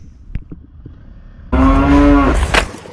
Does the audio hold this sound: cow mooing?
yes